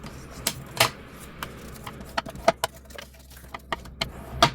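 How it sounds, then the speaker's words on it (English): Thick card stock is folded back and forth into accordion pleats, giving a dozen or so crisp snaps and creasing crackles at an irregular pace, close by with no talking. "Now what we're going to do is just some accordion folds, or concertina folds as we call them."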